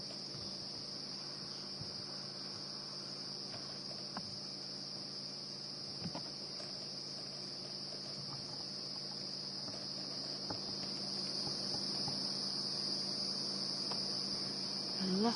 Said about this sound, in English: Lots and lots of cicadas and crickets all of a sudden.